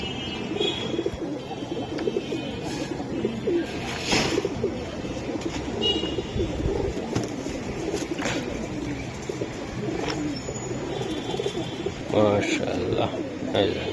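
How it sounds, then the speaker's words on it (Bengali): Pigeons offered for sale at a Bangladeshi pigeon market give soft, low coos now and then, mixed into a busy background of chatter and handling noise. "দুইটা কবুতর দেখাইছি, এগুলো উড়ানোর জন্য সুন্দর একটা কবুতর হইব একদম"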